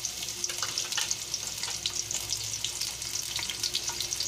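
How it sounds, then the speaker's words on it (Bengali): Sliced onions frying in ghee to make birista, a soft continuous sizzle with fine crackling throughout, fairly quiet and steady, with no talking. "বেরেস্তার জন্য পেঁয়াজটা আমি দিয়ে দিলাম।"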